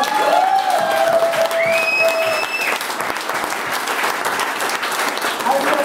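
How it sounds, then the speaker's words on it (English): Audience applause fills the room at the close of a live band's evening performance, steady, dense clapping throughout with some cheering and a brief voice over it early on. "one big applause for all of us"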